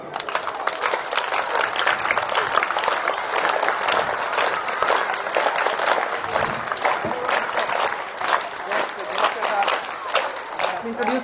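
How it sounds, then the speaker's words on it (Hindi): Audience at a school event applauding vigorously, dense continuous clapping from many hands filling the room, steady and loud throughout with faint crowd murmur. "क्लैपिंग।"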